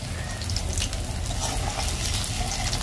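Small batter fritters fry in hot oil with a steady, dense sizzle and crackle that holds evenly throughout, close up and moderately quiet, with no voices.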